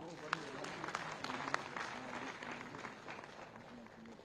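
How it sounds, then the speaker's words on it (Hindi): Applause from an audience at an agriculture and food-processing industry event, fairly faint and distant, a continuous patter of clapping with a few sharper claps and a voice faintly underneath. "अलीन मुखर्जी जी से उन लगातार तालियों के साथ।"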